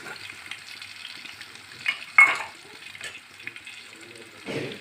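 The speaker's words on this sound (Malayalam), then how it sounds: "ഇതെല്ലാം നമുക്ക് നല്ലപോലെ ഫ്രൈ ആക്കി കൊടുക്കണം കരിഞ്ഞു പോകാതെ" Garlic, green chillies, ginger and curry leaves fry in oil for a fish pickle, a soft low sizzle with scattered stirring scrapes and a couple of louder clatters, no voices.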